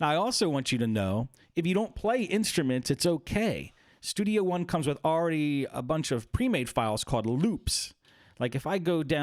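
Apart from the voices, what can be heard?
None of the usual background noises is heard.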